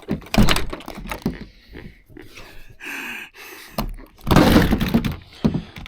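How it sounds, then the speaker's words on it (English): A sticking door on a camp bus is forced open with a series of heavy thunks, bangs and scraping creaks, loud and close, with short strained breaths between the efforts. "Oh, this door's sticking."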